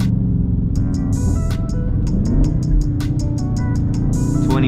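Dodge Charger Scat Pack on Toyo R888R tires accelerating hard in first gear from 20 mph on a wet road, a loud, close engine roar climbing steadily, with rain hiss and short sharp clicks over it.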